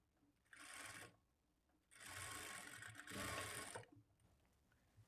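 A sewing machine stitches a lined blouse in two quiet bursts of rapid whirring, the second longer with a brief change in speed, separated by a short pause.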